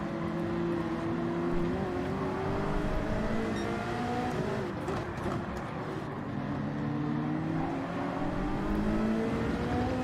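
Race cars at the Nürburgring drone and rev steadily, with engine notes rising and falling as several cars pass at moderate distance through a continuous wash of engine noise.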